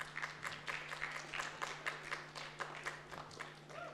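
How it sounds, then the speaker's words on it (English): A small gathering at a school chapel service claps for a student named Isaac; sparse, individual claps are distinct, moderately close, and fairly quiet over a low background hum. "Round of applause for Isaac"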